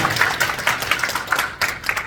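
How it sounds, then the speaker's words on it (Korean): An audience at a Korean association general meeting claps steadily for an introduced professor, a dense, continuous patter of many hands filling the room without pause. "박수 한번 쳐주시죠"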